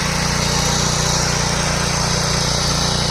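Small power weeder tiller engine running steadily up close, a loud continuous buzzing drone with an even idle-like throb and no talk over it.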